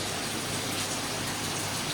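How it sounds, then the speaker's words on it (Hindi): Heavy rain pours down with rainwater running into a house, a dense, loud, unbroken hiss of falling and gushing water close by with no voices. "बारिश का पानी आ रहा है और पानी आ रहा है"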